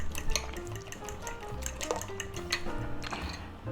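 Eggs with chopped green onion being beaten in a bowl, with a quick run of light clinking and tapping of utensil against the dish, close and steady throughout.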